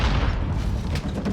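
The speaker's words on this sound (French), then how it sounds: "Grenade." Heavy, booming blast of a grenade in the Warzone video game, loud and close with a dense rumbling low end that lingers across the moment, no talking over it.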